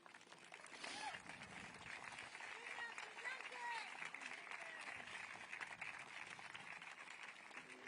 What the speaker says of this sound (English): Could we give one more round of applause for Virginia's family?